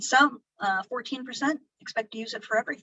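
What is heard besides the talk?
No everyday noise stands out behind the speech.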